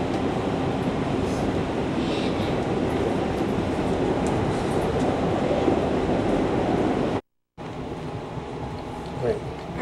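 Passenger train bound for Huntington, a steady loud rumble and roar of the moving car heard from inside, with a brief dropout near the end.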